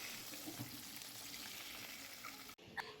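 Chicken fries in deep oil, a dense, steady sizzle close by that ends with a brief clatter and a short scrape.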